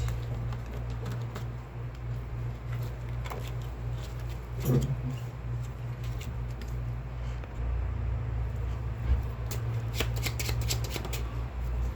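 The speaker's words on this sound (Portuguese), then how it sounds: "Eu vou começar com esse baralho comum do dólar" An ordinary deck of playing cards being shuffled by hand, a quiet riffling patter with short crisp bursts over a steady low hum.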